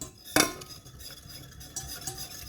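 A utensil stirs milk and honey for ceremonial cacao in a pot on a medium-high stove: one sharp clink against the pot, then soft scraping and swishing, fairly quiet with no talk.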